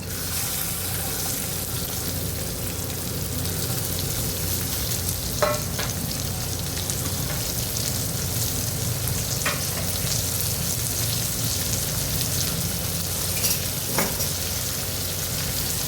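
Cowpea pods with curry leaves, asafoetida and turmeric sauté in hot oil, giving a steady close sizzle with occasional scrapes and stirs of the spoon and no talking.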